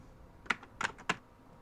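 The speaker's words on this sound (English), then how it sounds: "Every time they click on the icon, it gives this sound effect." Three sharp clicks from an icon-click sound effect land in quick succession, soft and close against a quiet background.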